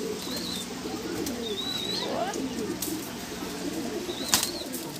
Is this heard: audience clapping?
no